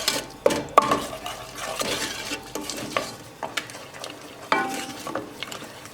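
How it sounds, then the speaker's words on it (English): Caramel mixture cooking in a pot over a small stovetop burner sizzles steadily, broken by scattered clinks and scrapes of a utensil against the pot. "So now I see that it's already sizzling at the bottom"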